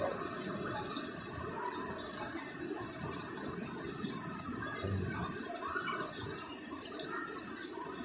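River water rushing steadily in the Philippines, where crowds of people arrive, a constant, close, broadband gushing flow that runs unbroken and alone, with no voices.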